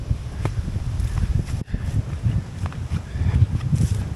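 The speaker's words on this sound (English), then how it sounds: "Certainly windy on the north side, is it?" Gusty wind on a Lake District lake shore buffets the microphone in uneven low rumbles, with occasional rustling and brief lulls between stronger gusts.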